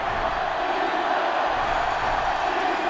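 A sellout stadium crowd roars in a college football video game, NCAA Football 2005, a dense, steady wall of cheering and noise that stays loud and unbroken throughout.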